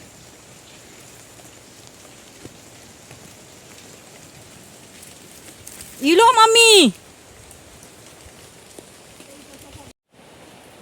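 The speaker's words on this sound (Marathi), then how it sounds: "आणि परत पाऊस आला" Steady rain falls outdoors in the Konkan countryside during kokum picking, a constant soft hiss throughout, broken midway by a loud, sliding, tonal voice call, with people talking nearby.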